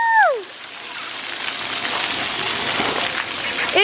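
Water sprays and patters steadily at an outdoor splash pad, a continuous hissing shower at moderate loudness. A brief whistle-like sweep opens the sound and another cuts in at the end.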